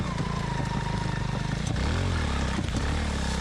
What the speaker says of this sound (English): The engine fired right up, and I am riding through the forest on a motorcycle that was completely submerged just hours ago.